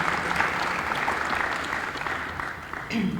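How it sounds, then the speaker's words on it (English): A crowd at a college athletic banquet and hall of fame ceremony claps steadily in a moderately loud round of applause, with a voice briefly rising at the very end. "So let's just give them a round of applause"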